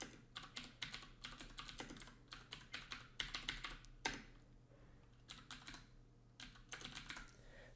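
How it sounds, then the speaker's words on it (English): Quick bursts of keystrokes on a computer keyboard while a terminal command is entered, clicking close and crisp in uneven clusters with short pauses, no voices. "I can type it out here just to show you"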